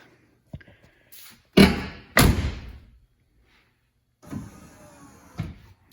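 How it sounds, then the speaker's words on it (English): Two heavy thuds land like a door shutting on a 1996 GMC Suburban, followed by a quiet electric motor whir and a softer clunk as its power running boards deploy into place. "here's a demonstration of the power steps"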